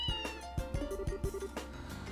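A cat meows in the video game Trails in the Sky, a few short, tonal mews set among game music and sound effects, close and fairly clear.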